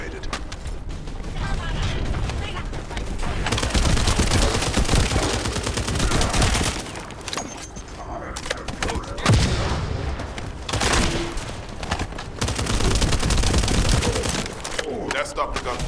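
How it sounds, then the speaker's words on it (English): Dense bursts of rapid gunfire crackle and boom through a battle in the shooter game The First Descendant, volleys rising and falling almost without pause, with game voices talking at times. "That stopped the gunfire."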